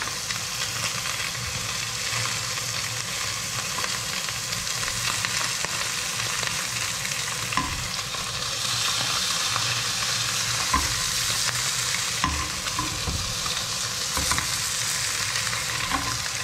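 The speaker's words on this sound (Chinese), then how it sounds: "我就只有干煎而已，什么都没有加，就只有抹盐干煎而已" A salted fish fillet dry-pan-fried over high heat sizzles and spits steadily, close and continuous, with occasional scraping and clacks of a utensil in the pan.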